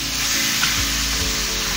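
Pork fajitas with peppers and mandarin sizzle and fry over high heat in a pan, giving a steady, loud, close crackling hiss. A few faint stirring knocks sit underneath, and no voices are heard.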